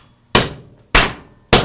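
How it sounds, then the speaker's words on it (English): Three sharp, loud hammer taps on metal rollers, evenly spaced about half a second apart, each ringing briefly before fading, close by with no talking. "I'm just gonna tap these rollers"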